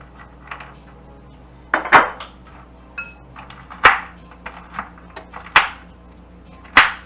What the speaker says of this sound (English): I have some pecans here. Let me just chop these up right quick.